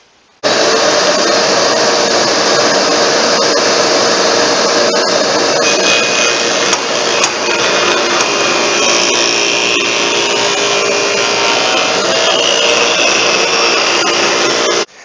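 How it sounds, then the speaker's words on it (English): Table saw cutting a dado through an oak board for a picture frame: a loud, steady, close whine and rasp of blade through wood that holds for about fourteen seconds without a break, then stops abruptly, with no voices over it. "We'll trick the saw into thinking we're doing a dado instead of a rabbet."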